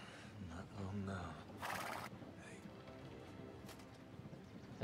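A horse neighs in the Game of Thrones Telltale video game, a loud high whinny burst lasting about half a second near the middle, set against game music and ambience.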